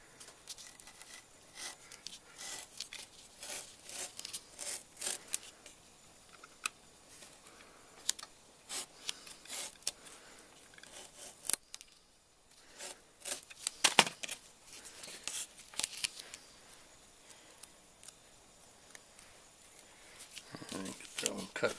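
A scroll saw with a dull blade cuts a sanding strip in a workshop, producing a steady run of rapid ticking, rattling strokes at moderate volume, with short pauses between passes and someone talking intermittently nearby.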